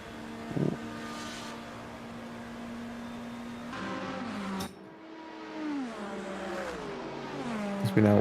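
Race cars in an endurance racing video game at Daytona roar along the track and pass nearby, engine pitch sweeping up and down through gear changes, with a Mercedes among the field; continuous loud engine drone throughout.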